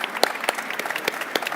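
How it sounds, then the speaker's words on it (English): A brief round of applause for panel participants at a life sciences and fintech discussion, a small audience clapping with several distinct sharp claps standing out over a light continuous patter. "if we could give them all a round of applause"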